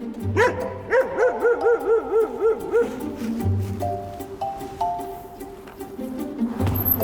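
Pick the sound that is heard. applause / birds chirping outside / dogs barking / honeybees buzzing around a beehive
dogs barking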